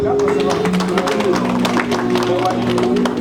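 Crowd applause at a political rally welcoming Alassane Ouattara, thick and sustained clapping with cheering voices and music-like tones underneath, loud and continuous throughout.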